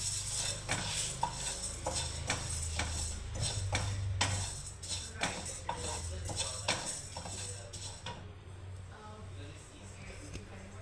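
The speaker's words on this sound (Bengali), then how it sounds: "এই দেখুন বন্ধুরা কাঠখোলায় আমি মুগ ডালটাকে ভেজে নিচ্ছি" Mung dal dry-roasts in a clay pan, a rapid, uneven clatter of grains and the stirring utensil knocking against the pan, close and continuous, with a voice talking faintly in places.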